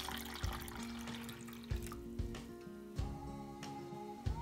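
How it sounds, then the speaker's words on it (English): Water pours steadily into a container, a continuous splashing trickle with a few soft knocks along the way. "We have poured some water in it"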